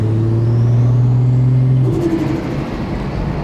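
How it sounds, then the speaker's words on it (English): A Mercedes 190E fitted with a single-turbo 2JZ engine pulls hard, its loud steady drone holding for under two seconds before the revs drop and a turbo whoosh takes over as it lets off. "when the turbo spools up, and it doesn't take much for the turbo to spool up actually in this."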